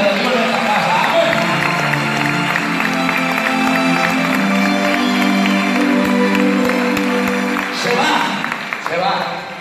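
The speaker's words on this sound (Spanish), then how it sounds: "Aplaudale a la presencia de Dios en esta casa" A church congregation applauds steadily and loudly, with sustained clapping throughout, a speaker's voice over it, and music blending in.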